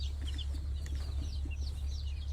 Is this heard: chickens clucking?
yes